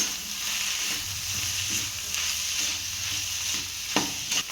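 Mashed potatoes being stirred into a hot pan with coriander for an aloo paratha filling, a steady scraping and soft sizzle with a couple of sharper spoon knocks near the end, no voices.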